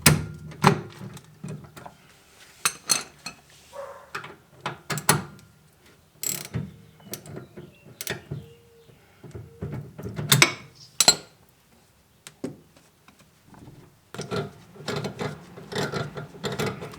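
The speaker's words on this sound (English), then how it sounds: "I'm going to go ahead and put the ratchet in here, turn, and set that free." A ratchet works on a BMW E30's inner tie rod tool, giving irregular, close bursts of clicking and metallic clatter spread across the span with short quiet gaps.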